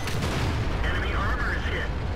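A tank cannon firing and striking an enemy vehicle during a World of Tanks battle, heard as a heavy, dense blast and rumble with noisy game effects under a steady roar, followed by a brief metallic ringing.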